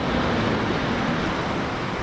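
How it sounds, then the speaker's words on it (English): Ocean surf rolls in at a beach on a cool October day, a steady broadband wash of breaking waves with wind noise running close and loud through the whole stretch, no voices present. "Those waves were killer."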